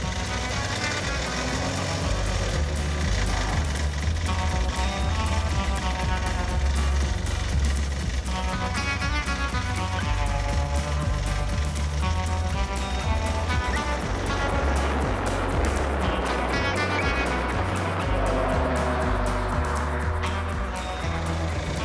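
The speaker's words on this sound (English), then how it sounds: "That is a lot of load on this poor motor." Engine of an AMC Pacer straining under heavy load while climbing an off-road trail, a loud, constant low droning roar held steadily throughout with little variation and no talking.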